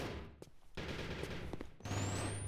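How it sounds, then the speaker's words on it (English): Gunfire in a competitive video game match: dense bursts of shots and bullets whizzing, loud and continuous with a sharp whine near the end, no talking. "Bullets flying either way, not finding target on either side."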